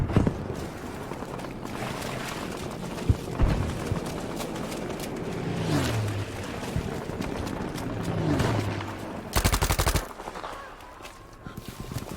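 Gunfire in the World War II shooter Battlefield V, with a Thompson M1928A1 in use: scattered shots and short bursts over a busy battle mix, with a dense loud burst near the end.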